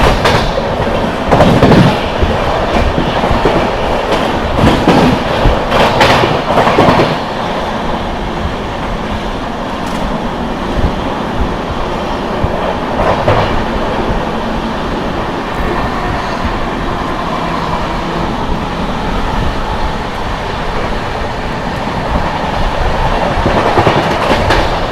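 A Jharkhand Sampark Kranti Express (12826) running at speed, heard as a steady loud rumble with rhythmic clickety-clack of wheels over rail joints throughout, no talking.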